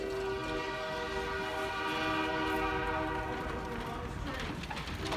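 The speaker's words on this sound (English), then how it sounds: "Oh, there's a railroad over there!" A train rolls past close to the railroad with a steady, loud rumble of wagons, a sustained horn tone layered over it and faint clatter of wheels throughout.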